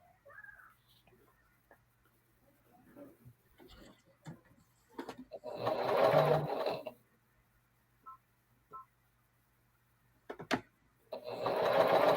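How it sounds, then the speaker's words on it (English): A home sewing machine stitching quilt half square triangles together, in two short whirring bursts separated by quiet moments with faint clicks and handling noises, fairly close. "I'm gonna sew them together and trim it down."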